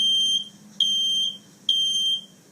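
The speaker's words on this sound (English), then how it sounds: "I will start the fire alarm sounds in my home." A home fire alarm sounds three loud, shrill, sustained beeps, evenly spaced with short gaps between them and nothing else around.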